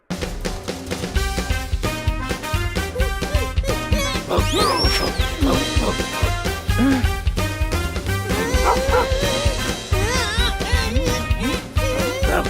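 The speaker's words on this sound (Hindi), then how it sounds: "गाड़ी नहीं है, इसको कुत्ता कहते हैं।" A cartoon dog in a Hindi children's animation barks and yips repeatedly, mixed in with busy background music and character voices.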